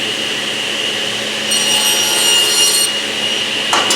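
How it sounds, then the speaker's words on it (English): A table saw spins up and cross-cuts a wooden board held tight against the miter gauge, giving a steady high whine that thickens midway as the blade bites, with a brief rasp at the end and no voices. "Turn on my saw."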